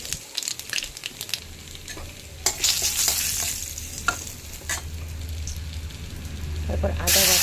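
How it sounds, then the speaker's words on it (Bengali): Bay leaf and nigella seeds crackle in hot oil for a tempering, a steady close sizzle with scraping stirring strokes and a faint voice now and then. "এদিকে তেল গরম হয়ে গিয়েছে, তেলে তেজপাতা দিয়ে দিয়েছি, ফোড়নের জন্য কালি জিরাটা দিয়ে দেব"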